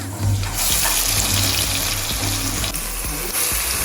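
Curry leaves and ground paste dropped into hot oil with browned onions for Kerala-style tapioca, giving a loud, steady sizzle and crackle close up.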